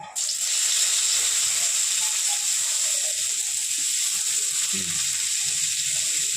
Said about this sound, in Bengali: এবার এই তেলেই আমি পেঁয়াজ ভেজে নেব।